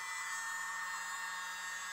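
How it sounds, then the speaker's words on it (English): A small leaf blower runs in a steady, hissing whoosh, blowing across a paint pour in a Dutch pour painting session, with no talking. "Here we go with the little leaf blower"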